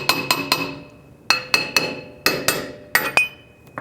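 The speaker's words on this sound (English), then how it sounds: "you'll need a hammer and very gently tap it off." Sharp metallic hammer blows tap a brake drum off the hub of a Lexus ES300, in small clusters of two or three, ringing briefly with a bright clang, loud and close with short pauses between groups.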